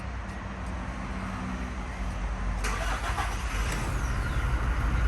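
A car engine is started by holding an aftermarket keyless push-start button with no brake pressed. A low idle hum jumps into a louder cranking catch midway, then settles into a fuller running engine sound, close and without speech.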